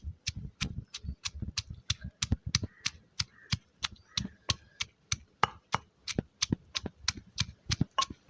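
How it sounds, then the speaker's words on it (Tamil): Ginger and garlic pounded together in a mortar in a village kitchen: a steady run of sharp thuds, about three per second, close and fairly loud throughout, with no talking. "இஞ்சிக்கே சேர்த்து உள்ளியையும் சேர்த்து இடிக்க போகிறோம்"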